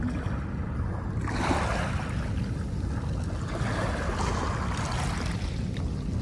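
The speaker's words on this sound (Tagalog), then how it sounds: "Ang kulit naman kasi nitong alon" Waves washing onto the shore of Manila Bay, a continuous rushing surge with breaking swells rising and falling, steady and fairly close, alone without talk.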